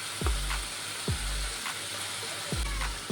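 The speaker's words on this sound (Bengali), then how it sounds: "যে পনিরটাকে আমি ভেজে রেখেছিলাম পনিরটাকে দিয়ে দেবো" Fried paneer cubes go into a pan of sizzling onion-garlic masala. A steady, close sizzle runs throughout, with a few soft thumps and scrapes as the pieces are tipped in and stirred.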